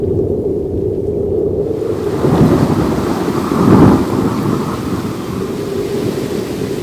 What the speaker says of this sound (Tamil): மழையின் சீற்றம் வேறு அதிகரித்துக் கொண்டே போகிறது